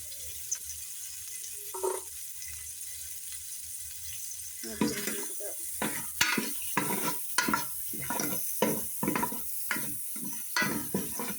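Butter frying in a pan with spices such as cinnamon and garlic for rice, a steady sizzle under repeated stirring and scraping strokes that grow busier halfway through.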